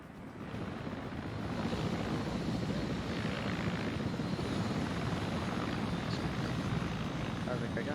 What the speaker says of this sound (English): There's an Mi-24 operating somewhere on this area once it leaves.